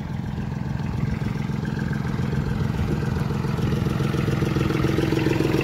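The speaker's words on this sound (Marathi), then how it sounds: "फोर टाकला की असं सण पळतं राव ट्रॅक्टर" A new tractor engine running in fourth gear, a loud, steady, close mechanical drone with a fast even throb that holds constant throughout.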